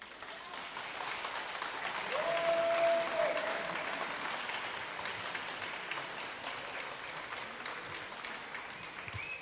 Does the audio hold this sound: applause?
yes